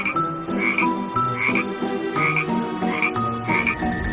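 Cartoon frogs croak in a steady, repeating rhythm, roughly one call every second, from a witch's pot full of frogs. The croaks are close and loud, with no talking.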